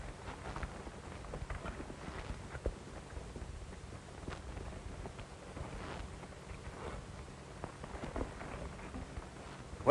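Horses' hooves clip-clop in a steady, fairly quiet patter of irregular knocks in an old Western town street, with light wind noise and no talking.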